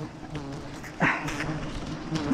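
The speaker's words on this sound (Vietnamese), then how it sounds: "Ong tấn công mình nhỉ." Agitated giant honey bees buzz around a wild hive on Núi Chì mountain, Tánh Linh, Bình Thuận, during a honey harvest, a steady, moderately faint hum with a brief louder swell partway through.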